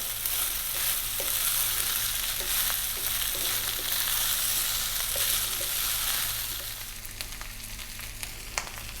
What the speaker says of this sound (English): Frying rice.